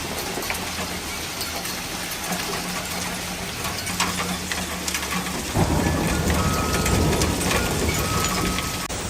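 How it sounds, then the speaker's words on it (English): Hail pounds loudly on rooftops in a violent storm, a dense, continuous roar of impacts that grows heavier and louder partway through, with no voices. "The sound of hail pounding loudly on rooftops made nature seem enraged a moment"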